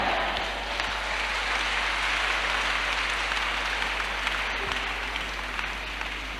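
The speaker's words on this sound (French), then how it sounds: "L'acclamation peut être plus fort à Jésus." A church congregation gives sustained applause and acclamation for Jesus, a dense, even wash of clapping and cheering that holds steady for several seconds with no break, heard from within the crowd.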